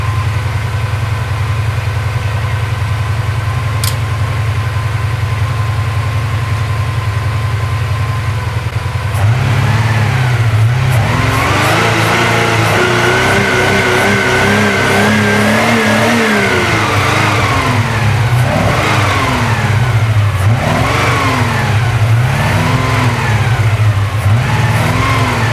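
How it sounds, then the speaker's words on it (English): A Porsche 928 engine idles with a steady low rumble, then is blipped repeatedly to high RPM, each loud rev rising and falling in quick succession close by. "I'll blip it up now just so you can hear it"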